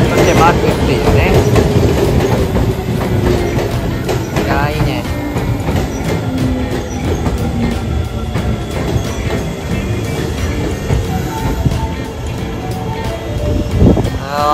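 An Osaka Metro 400 series train passing close by, with a loud rumble, rhythmic wheel clatter and a falling motor whine that fades across the clip, ending with a squeal; a voice is heard briefly.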